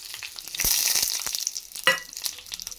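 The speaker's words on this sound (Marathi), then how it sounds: "एका तडका पॅनमध्ये मी तेल गरम करून ठेवतले त्याच्यामध्ये पहिले जाईल मोहरी लाल सुक्या मिरच्या" Mustard seeds and dry red chillies hit hot oil in a small tadka pan, bursting into a bright crackling sizzle with scattered pops and a sharp spatter near the end.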